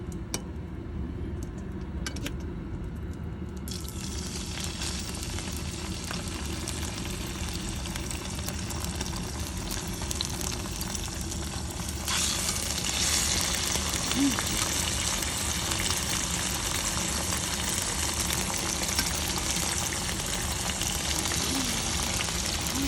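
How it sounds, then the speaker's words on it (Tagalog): Pork chop marinated in soy sauce, lemon, pepper and paprika frying in a pan, a steady close sizzle that grows louder and brighter partway through, with no talk. "prito na natin ang pork chop."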